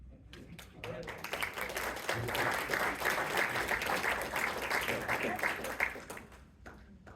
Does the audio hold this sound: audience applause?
yes